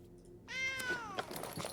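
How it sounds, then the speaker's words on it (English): A cartoonish cat meow plays as a card is picked in the MTG Arena digital card game, a single drawn-out rising meow with clear harmonics, loud and alone over faint game background sounds. "it meows when you pick it."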